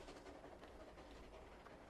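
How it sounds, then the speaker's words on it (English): A steam train rolls past in Farming Simulator 15 at Thornton Farm, a steady distant rumble with faint rhythmic clickety-clack filling the stretch and no talk. "It sounds like we can hear the steam train."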